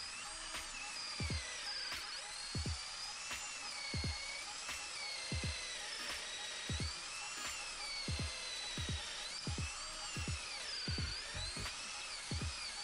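A Ferrex 14.4V cordless drill from Aldi boring into wood with an 8mm wood bit, its motor whining in repeated bursts, each spin-up and slow-down arriving roughly every second and a half, close and clear with no talking.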